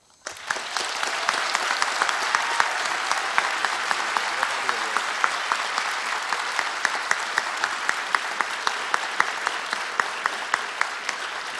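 A roomful of guests at a Women's History Month celebration applauds an honoree, a retired military chief, with sustained, dense clapping that starts abruptly and holds steady at full strength, with no talk.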